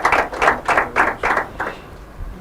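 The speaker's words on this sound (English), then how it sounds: "A round of applause." A short burst of hand clapping at an inter-collegiate quiz and debate competition, about six even claps in quick rhythm, then fading out; close and moderately loud.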